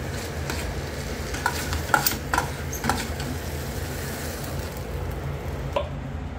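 Cheetos mac n cheese is stirred in a pot by kids. A spoon clinks and scrapes several times over a constant low background rumble, nearby and fairly quiet.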